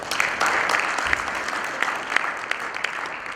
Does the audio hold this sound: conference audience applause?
yes